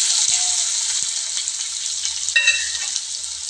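Two large onions fry with mustard seeds in a pan for a bottle gourd kootu, a loud, steady, bright hiss of oil throughout, with a faint clink or two and no speech.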